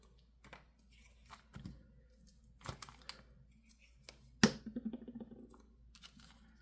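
Scissors trim the edge of a journal cover made from gel-printed paper, giving a few faint, scattered snips and crisp paper rustles in a quiet room, with one sharper cut standing out.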